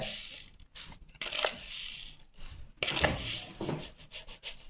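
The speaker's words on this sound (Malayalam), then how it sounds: "എന്നിട്ട് വീണ്ടും നമ്മളത് ഇളക്കി കൊടുക്കുന്നു നല്ല പോലെ ഇളക്കണം കേട്ടോ" Sugar and cardamom being stirred into a sweet in a pan, with close, irregular scraping and rubbing strokes rising and falling and a few sharper clinks.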